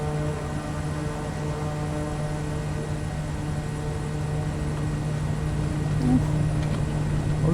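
Steady drone of a Kodiak 100's turboprop engine at takeoff power in Microsoft Flight Simulator, a constant loud hum with a low tonal note that swells slightly near the end, with no talk.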